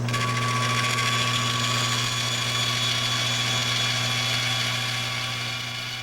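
Power saw cutting a fiberglass laminate for a laminated longbow, producing a steady, loud motor whine with a constant hum that runs through the whole stretch with no talking.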